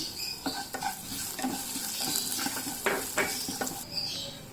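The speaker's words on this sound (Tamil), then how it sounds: "இப்போ கருவேப்பிலை போட்டுக்கலாம்." Curry leaves and garlic sizzle in hot oil in a pan for tomato rasam, with a close, steady frying hiss and repeated scrapes and clinks of a stirring spoon against the pan.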